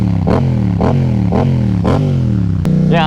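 A Yamaha FZ07 motorcycle on the move climbs through the revs in repeated surges, each rise cut by a quick shift, loud and close over wind and road noise.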